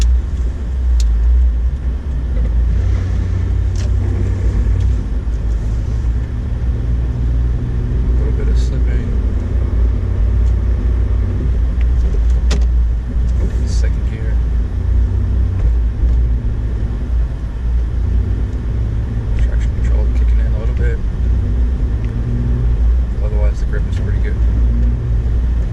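2008 Honda Ridgeline in first gear with 4-wheel drive engaged, driving through deep snow during a blizzard, a steady low engine and road rumble heard from inside the cab, with a person talking over it.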